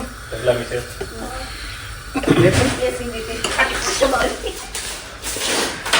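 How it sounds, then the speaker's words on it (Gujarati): Two to three spoonfuls of maida flour roast in ghee in a pan, with a spoon scraping and stirring in soft, irregular strokes under a low sizzle while people talk over it. "ઈ 2-3 ચમચી જેવો મેંદો હોય ને બેટા એમ ઘીમાં શેકી નાખવાનો"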